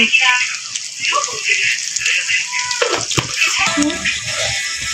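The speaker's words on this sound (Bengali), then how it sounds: "দেখো গোটা মুরগিটা কি সুন্দর ভাজা হয়েছে, কুরকুরে শব্দ করছে" A whole 2.5 kg chicken fries in turmeric, cumin, chili powder and salt, giving a loud, continuous sizzling crackle with scattered pops close up, while a voice talks over it.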